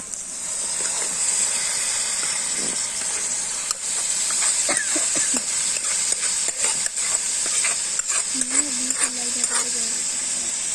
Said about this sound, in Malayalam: ഇനി നമുക്ക് ബീഫ് ഇട്ട് കൊടുക്കാം